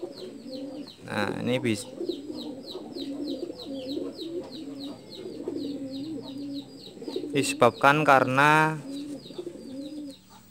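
Pet pigeons, one suffering from bumblefoot, coo repeatedly in a dirty coop, a steady low cooing that runs under someone talking throughout, with a louder burst of cooing near the end.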